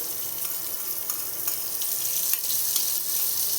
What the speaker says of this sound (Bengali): এটাও হালকা করে ভেজে নেব